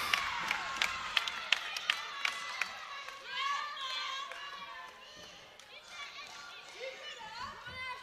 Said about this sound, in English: Very enthusiastic cheering section